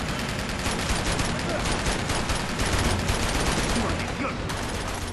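Dense, sustained machine-gun fire from the video game Uncharted 2, a loud continuous fusillade of rapid shots filling the whole stretch with steady game-battle noise and no clear pauses.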